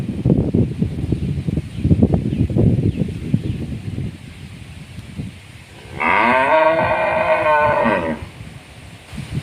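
A cow lets out one loud, drawn-out moo lasting about two seconds, close by. Before it come wind and rustling in a rural outdoor setting.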